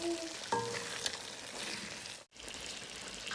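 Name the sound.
stirring black pepper chicken karahi paste in a pan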